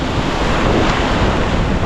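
Sea waves wash and surge steadily while people are out crabbing at sea, with heavy wind buffeting the microphone throughout.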